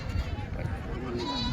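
Goats and young kids bleat at a rural goat market in Kalamnuri, Hingoli district, with short calls rising above a busy crowd and someone talking close by.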